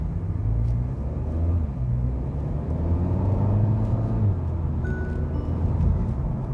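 A 2020 Hyundai Veloster is heard from inside the cabin while driving. Its engine gives a steady, low, rumbling note that shifts gently in pitch, with no speech over it.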